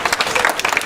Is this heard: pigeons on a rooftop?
no